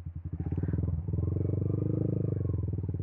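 A motorcycle rides through a flooded village in barangay Subic Ilaya, Agoncillo, its engine putting out a close, rapid, pulsing thrum that stays steady after a brief stutter near the start.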